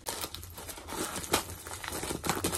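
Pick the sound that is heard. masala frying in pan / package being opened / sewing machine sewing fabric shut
package being opened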